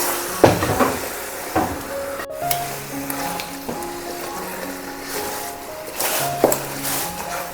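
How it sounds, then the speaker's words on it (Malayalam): A large pot of Rowther-style biryani, one kilo of rice with two kilos of chicken, is stirred: continuous sizzling and hissing broken by scattered scraping and clattering strokes, with faint tonal music underneath. "നല്ലപോലെ ഒന്ന് ഇളക്കി കൊടുക്കാം"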